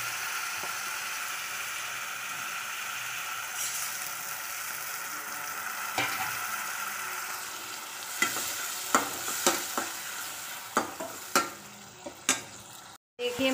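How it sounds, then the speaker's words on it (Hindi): Masala spices and salt fry in a pan while being stirred, giving a steady sizzle with a run of sharp scraping clicks from the spoon growing louder toward the end. "नमक डाल दो साथ में तो मसाला अच्छा भून जाता है"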